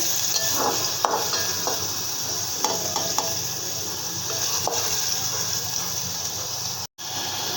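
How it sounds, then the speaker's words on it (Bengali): Onion and garlic sizzle steadily in hot oil in a pan while being fried for a tempering, with a continuous close frying hiss broken by occasional stirring scrapes and no talking. "পেঁয়াজ ও রসুন দিয়ে দিলাম চাল বাগার জন্য।"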